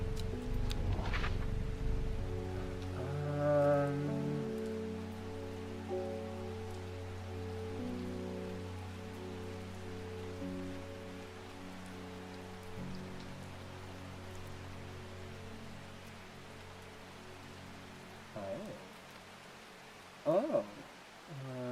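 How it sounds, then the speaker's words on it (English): Steady rain in the video game Strange Horticulture patters softly beneath gentle sustained musical tones, with a couple of brief sharp taps near the end. "Beautiful, beautiful rain."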